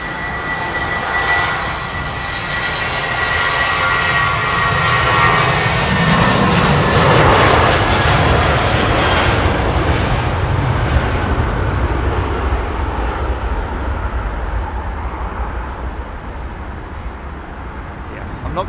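An airliner with a replacement rudder roars loudly at London Heathrow Airport, its engine noise building to a peak midway and then slowly easing, while someone talks over it.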